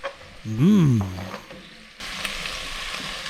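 Onions and garlic hit hot oil in a cooking pot with a bright, steady sizzle, preceded by a brief swooping tone and some light clatter.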